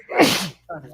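A single sharp sneeze bursts out close and loud, followed after a short gap by a quieter trailing sound.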